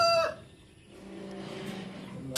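Chickens cluck and call close by, with a short rooster-like crow at the start and scattered clucking afterward in a quiet farmyard.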